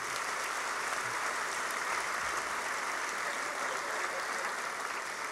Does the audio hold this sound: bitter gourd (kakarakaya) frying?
no